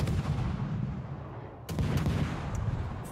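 Secondary guns firing in World of Warships aboard the Halland destroyer, a steady rattle of rapid booming shots with a sharper burst of blasts partway through, loud and close with no voices.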